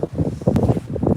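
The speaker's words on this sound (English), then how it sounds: "It's really windy, guys. Really windy." Strong wind at Crystal Lake buffeting the microphone in loud, uneven gusts and rumbles, close and rough, with a brief rustle partway through.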